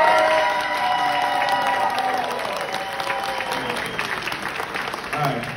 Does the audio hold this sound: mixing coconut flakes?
no